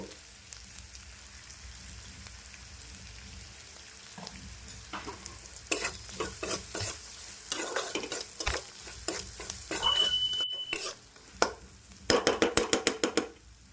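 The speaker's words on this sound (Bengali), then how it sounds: "মশলাটা ভাজা ভাজা হয়ে গেছে এটা দিয়ে দেব" Ground cumin and spices frying and being stirred in a pan for a Punjabi-style methi kadhi, a quiet steady sizzle broken by bursts of spatula scrapes and clatter that grow louder toward the end.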